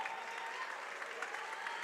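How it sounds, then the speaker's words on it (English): Steady applause from Texas Lutheran fans at a women's college basketball game against Trinity University, a moderately distant, even patter of clapping filling the gym without a break. "Applause from the TLU faithful who made the trip."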